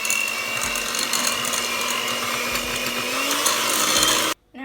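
An electric mixer beats cream cheese into sugar cookie dough with a steady, moderate whir that runs evenly, then cuts off abruptly just before the end.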